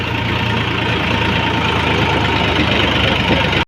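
A tractor's diesel engine, with a broken diesel pipe, idles loudly and steadily nearby with a constant low rumble and knocking, then cuts off abruptly.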